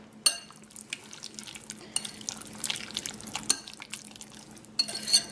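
Plain yogurt and fromage blanc being stirred together in a bowl, giving soft, wet spoon scrapes and light clicks against the bowl, close and steady with a few sharper taps.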